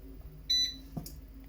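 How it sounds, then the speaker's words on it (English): Oven timer beeping after fifteen minutes of baking a vegetable lasagne at 170 degrees: one short, fairly loud electronic beep tone, followed by a brief clatter. "We've just beeped for our first 15 minutes."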